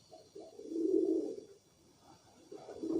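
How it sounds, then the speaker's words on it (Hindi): A female pigeon coos softly in a few low, rolling bursts, faint and near, with short pauses between calls and no talking. "ये कबूतरी है"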